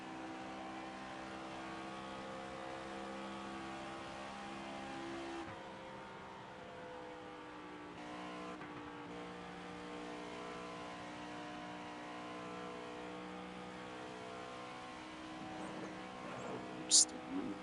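A race car in the NASCAR 25 video game, its engine droning at speed around Las Vegas, a steady sustained whine with a few shifts in pitch and a brief sharp click near the end, with a voice talking over it.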